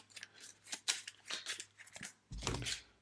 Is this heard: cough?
no